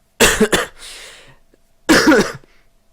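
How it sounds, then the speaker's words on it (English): A person with a cold coughs, a quick double cough followed by a rough exhale, then another harsh cough after a short pause; close and loud, with no talk. "Sorry if I cough quite a bit in this episode."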